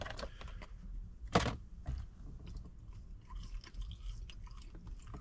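Someone chews fries served with short ribs, a close, soft crunching and mashing with one sharper bite early on, going on steadily without talk.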